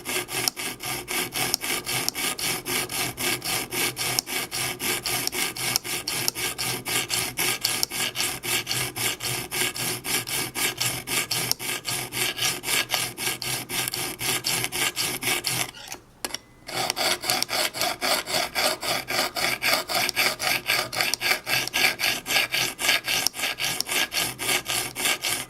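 A knife edge is drawn over a sharpening stone on a rod-guided system, giving close, continuous rhythmic rasping strokes. There is one brief pause about two-thirds through before the steady scraping resumes.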